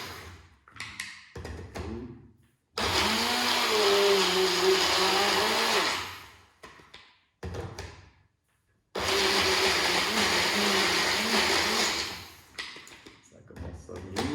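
A kitchen blender whirs through a homemade smoothie with no liquid added, running in two long, loud grinding bursts of a few seconds each, separated by quieter stretches of clatter and handling noise.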